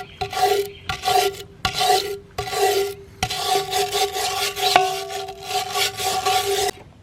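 A brush scrubs a rusty cast iron pan after a vinegar soak, making rhythmic rasping strokes that are close and fairly loud, repeated in quick succession with brief gaps between and occasional sharp scraping clicks.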